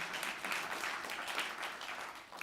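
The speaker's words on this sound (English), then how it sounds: "Dr. Alan Drummond, who apparently brought his own cheering section" Audience at a panel discussion on healthcare applauding, a faint but steady patter of many hands clapping throughout with no voices over it.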